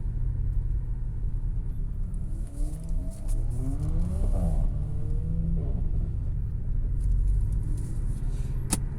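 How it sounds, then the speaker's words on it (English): Porsche 718 Cayman S with its turbocharged four-cylinder engine and sport exhaust valves open, producing a loud, close, steady deep rumble that swells with a rev rise mid-way before settling. "Porsche Sport exhaust is engaged. You can instantly hear those valves open."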